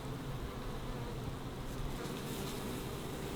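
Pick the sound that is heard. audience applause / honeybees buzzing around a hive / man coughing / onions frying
honeybees buzzing around a hive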